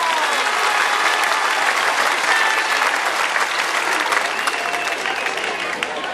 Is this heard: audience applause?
yes